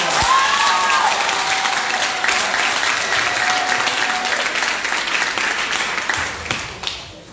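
An audience bursts into loud, sustained applause in a hall during a training session, dense clapping with a few cheers that gradually thins out toward the end.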